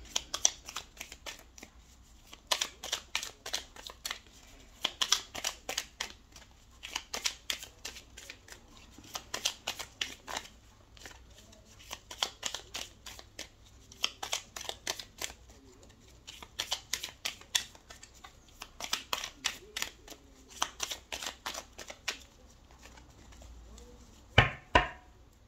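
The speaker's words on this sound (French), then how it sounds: "on va faire un tirage de 13 cartes avec le nouvel Éteia" A deck of Etteilla tarot cards is shuffled and dealt for a thirteen-card spread, with repeated crisp riffling and snapping bursts separated by short pauses, close and clear, ending in a louder tap.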